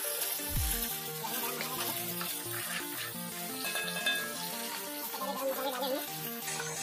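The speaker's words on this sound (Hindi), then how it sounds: "हमारा तेल अभी गरम हो चुका है, तो हम उसमें डालते हैं सबसे पहले गरम मसाले" Whole garam masala spices sizzling in hot oil in a pan for akni pulao, a steady close frying crackle with clinks of a utensil and musical tones running underneath.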